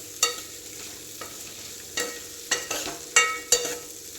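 A potato curry fries in a pan over a soft, steady sizzle while a spoon stirs it, tapping and scraping against the pan in several distinct strokes, close and clear, with no talking.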